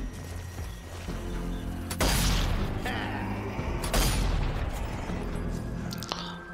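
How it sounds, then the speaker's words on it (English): Shotgun blasts in the zombie shooter Zombie Army 4: Dead War, two heavy booming shots a couple of seconds apart with rumbling game ambience and clatter between them. "a shotgun, whenever you shoot, man, you hit multiple zombie"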